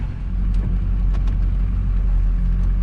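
A Duramax diesel pickup truck, broken after a honeymoon trip, drives along with a steady, loud low engine drone and road rumble that holds constant throughout, with no talking.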